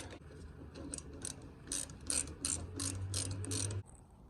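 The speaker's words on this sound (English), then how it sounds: "Now you can use a wrench. I'm using a ratchet wrench." A ratchet wrench tightens an AN line fitting on a surge tank install, giving a close series of quick clicking ratchet strokes in short bursts, with no talking.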